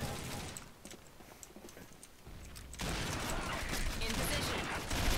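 Gunfire in the video game Combat Arms, a rapid spray of sniper rifle shots crackling in dense bursts, louder in the second half, under a busy game soundscape.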